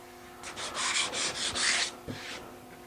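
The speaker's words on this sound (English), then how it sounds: "You might find that there's a few bits of glue that have come through onto the surface of the timber. We'll just need to sand those." Hand sanding along the edges of a timber speaker horn to remove glue spots: about six quick, close back-and-forth rasping strokes, then a short pause and one more stroke, in a quiet room.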